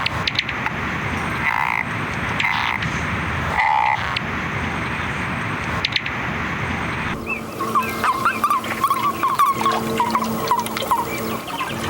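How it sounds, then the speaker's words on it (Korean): Rapid rattling calls of a golden frog, a trilling croak repeated in bursts, outdoors with steady background noise and a dog-like yelp partway through. "첫 번째 따끄르르 하는 것은 금개구리 소리입니다."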